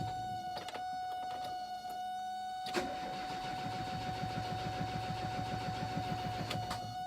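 An engine cranks repeatedly without catching, with a short burst of turning over followed by a longer steady rhythmic cranking, fairly quiet.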